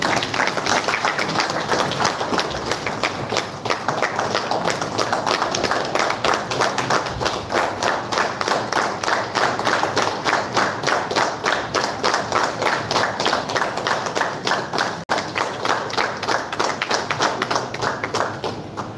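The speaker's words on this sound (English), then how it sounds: "Round of applause, please." An audience at Kaizen 2022 at GEC Bhavnagar applauds the chief guest as he receives a bouquet, a dense, steady round of clapping from a large crowd that continues loudly and evenly, with a brief dip near the end.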